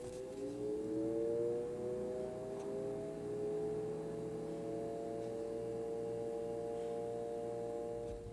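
A portable fridge compressor spins up in turbo mode, rising into a steady, fairly loud whine that holds on without a break, heard alone in a quiet room.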